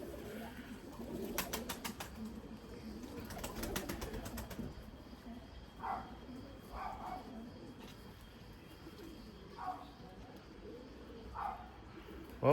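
Breeding pigeons coo in a loft, soft low calls repeating every couple of seconds at a moderate distance, after a stretch of fluttering, rapid wingbeat-like bursts at the start.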